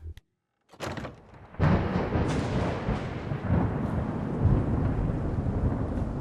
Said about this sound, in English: Well, I'm glad the thunder is back.